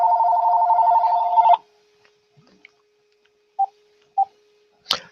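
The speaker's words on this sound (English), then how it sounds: "I couldn't shut my phone off" A mobile phone ringtone plays loudly and steadily for about a second and a half, then cuts off, leaving a near-silent room with a few short beeps and a faint click.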